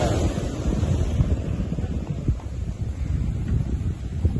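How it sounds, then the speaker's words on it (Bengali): Ocean surf on the shore at Shahpori Island rolls in as a continuous broadband wash, heavily buffeted by wind against the microphone, with no voices. "এই যে আরেকটি ঢেউ আসছে"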